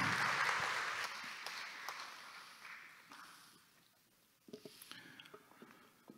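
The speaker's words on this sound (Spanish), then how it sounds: "Así que un aplauso, por favor, para la doctora." Applause from a symposium audience, a broad hiss of clapping that is strongest at the start, fades over several seconds, and then gives way to scattered, sparser claps.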